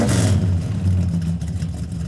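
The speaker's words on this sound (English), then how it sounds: "It's all raw engine." A 1970s Dodge Charger with no sound deadening rumbles loudly up close, its raw engine giving a deep throaty revving growl that swells and settles over a couple of seconds.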